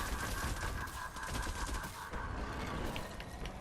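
Rapid, sustained automatic fire from the Candy Corn LMG in Fortnite Save the World, a dense, continuous rattle of shots with game noise behind it, loud and steady throughout.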